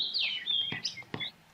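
Pet birds kept indoors chirp and tweet in quick, high, sliding calls, close and clear, with a few sharp clicks between them and no talking.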